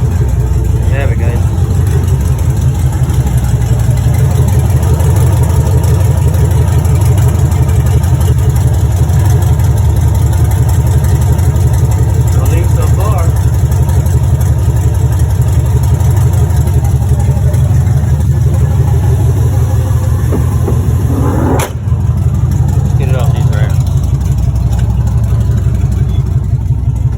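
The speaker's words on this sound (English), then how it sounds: "it's a very low idle in gear." A 6.0 engine idles very low while in gear, a steady continuous rumble heard close and loud throughout. Voices talk briefly over it.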